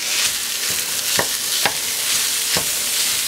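Lean ground beef sizzles and fries in a pan with a continuous loud hiss, broken by several sharp scraping strokes as it is stirred and broken up.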